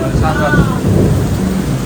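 A deep rumble of thunder rolls beneath dense, loud rainfall, with a faint voice briefly audible.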